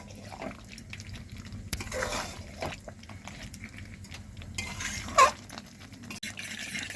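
Chicken is stirred and sautéed in a pan with a spoon, making soft intermittent scrapes and clinks against the metal over a quiet background, with one brief sharper knock.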